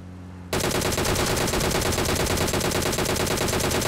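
Sudden loud automatic gunfire in PUBG Mobile on Erangel, a rapid, steady stream of shots from a DP-28 machine gun that starts after a brief quiet moment and keeps going without a break.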